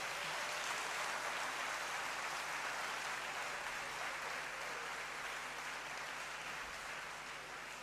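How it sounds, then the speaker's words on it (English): Graduates at a university congregation ceremony in a great hall clap for themselves, producing a dense, even wash of applause that carries on unbroken, moderately distant and steady throughout. "So, if you have to clap, you clap. Clap for yourselves."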